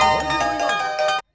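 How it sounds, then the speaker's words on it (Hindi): A mobile phone ringtone plays loud and close, a bright repeating electronic melody that lasts just over a second and then cuts off abruptly. "ये किसका मोबाइल है? साइलेंट करो इसको।"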